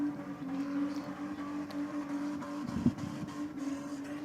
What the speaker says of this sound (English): Definitely a good burnout there on that one, Stu.